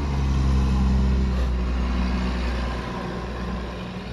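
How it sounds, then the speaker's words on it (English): A garbage truck's low engine rumbles nearby, loud and steady, then fades a little as it moves on. "as the garbage truck is going through"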